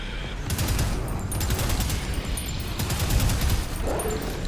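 Enemy gunners in the shooter game Prodeus fire rapid, sustained bursts of gunfire, with dense overlapping shots rattling steadily and loudly for several seconds.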